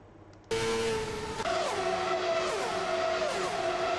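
An IndyCar in the Assetto Corsa racing game loses grip out of a corner and spins, its engine note suddenly loud and sustained, shifting pitch as the car slides and tires scrub, with no talking.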